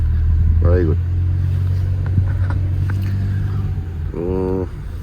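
A car accelerates up a slope during a driving test in Oman, its engine humming low and steady while people talk over it.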